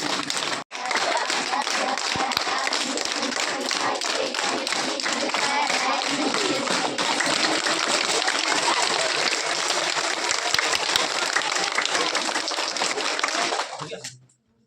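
Schoolchildren at a Saraswati Shishu Vidya Mandir school clap their hands steadily as an acupressure exercise, a dense, continuous patter of many hands that stops abruptly near the end after a brief break at the start.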